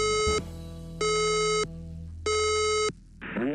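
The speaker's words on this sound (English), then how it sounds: "warning, the fire alarm system has operated." A fire alarm system sounds three long, loud electronic tones separated by short gaps, with a brief voice starting at the end.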